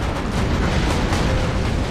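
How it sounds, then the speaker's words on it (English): Grenades blasting in the shooter game Borderlands 2, a dense, continuous rumble of loud explosions rolling together without pause for two seconds. "I can throw grenades at him"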